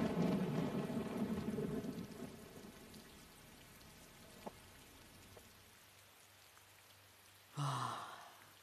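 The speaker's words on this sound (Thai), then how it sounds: "ฝนตกหนักเลย" Heavy rain falls in a steady hiss that gradually thins and fades, with a few isolated drops and a brief louder rush near the end.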